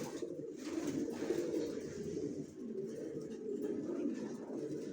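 Racer pigeons coo steadily in a loft, a continuous low murmur of overlapping birds with no talking.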